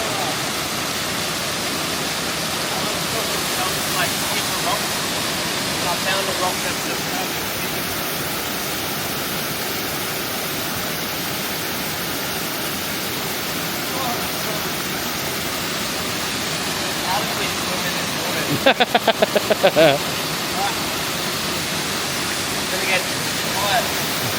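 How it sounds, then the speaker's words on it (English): Strongly flowing river water in Tollymore Forest Park, County Down, Northern Ireland: a loud, steady, broadband rushing roar throughout, with a short burst of clicks or handling noise near the end. "I want to show the people the strength of the water."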